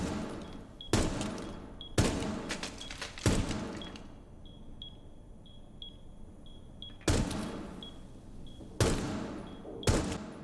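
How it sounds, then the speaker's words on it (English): Single gunshots in Rainbow Six Siege, fired through a wall and at a player, come as sharp isolated cracks spaced a second or two apart, with quiet game ambience and small electronic beeps between them. "I'm going to go ahead and shoot the wall just next to where Mav is standing, and then we'll shoot Mav and listen to the differences in sound"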